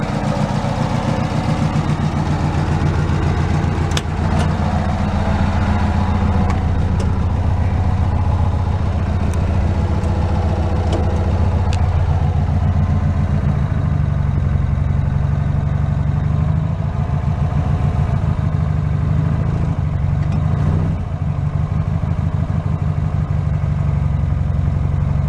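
A motorcycle engine runs continuously on a short ride, a loud, close, steady low rumble with slight shifts in pitch and a few faint clicks, no talking over it.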